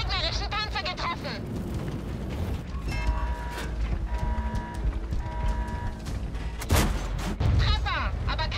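Artillery strike landing in World of Tanks while driving a leKpz M 41 90: loud booming impacts and crackling blasts over rumbling engine noise, with sharp bursts near the start and again late, and in-game voice lines between.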